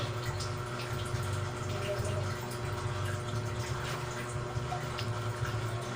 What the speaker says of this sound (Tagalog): May tubig na oh!